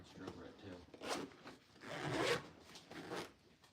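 The zipper on a Milwaukee tool bag is pulled open in a few short rasping strokes, close and fairly quiet, with brief pauses between the pulls.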